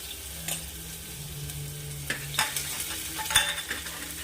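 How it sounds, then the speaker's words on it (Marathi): Chopped onion sautéing in a little oil in a pan for a spicy mutton curry, a steady soft sizzle with a few sharp scraping stirs of a spoon, close and alone with no voices. "कांद्याला थोडं परतून घ्यायचं आहे"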